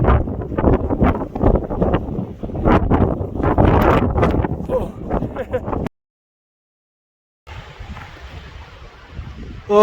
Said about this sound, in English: That wind was atrocious.